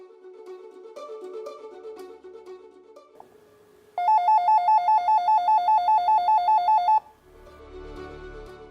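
An incoming call rings on a video intercom monitor, a loud electronic warble repeating in rapid pulses for about three seconds, with quieter tones and a short melodic chime before and after.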